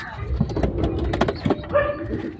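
Low, soft pigeon coos repeat close by in a short burst, with faint rustling around them.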